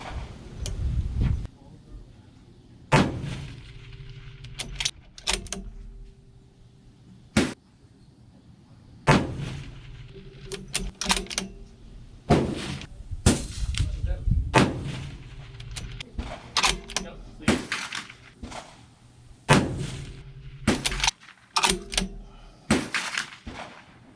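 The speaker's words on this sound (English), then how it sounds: "Factory seconds, shots 1 through 5, 600 yards." Rifle shots are fired at a 600-yard target with factory-second ammunition, and each loud sharp crack is followed by a ringing tail. Roughly a dozen shots arrive at irregular intervals over steady outdoor background noise.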